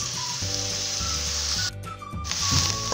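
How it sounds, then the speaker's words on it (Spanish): Onion fries in a pan with a steady, close sizzle and crackle, continuing throughout at moderate volume with no talking. "aquí ya tengo ya la cebollita muy bien frita"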